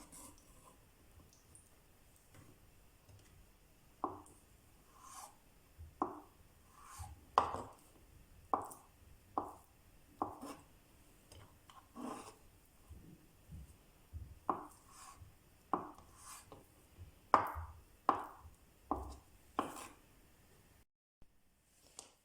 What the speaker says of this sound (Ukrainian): Далі нарізаємо яйця теж невеличкими кубиками.